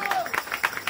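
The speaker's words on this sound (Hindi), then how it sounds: "जोरदार तालियां बजनी चाहिए।" Audience clapping and crowd noise at a Shyam Darbar kirtan devotional gathering fill the moment with dense, rapid applause, loud and continuous, under a voice.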